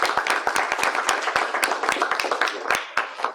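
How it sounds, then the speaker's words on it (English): Audience applause at an academic talk, with fairly sparse, distinct hand claps from a modest crowd in a lecture room, steady for a few seconds with no voices over it. "So a round of applause for..."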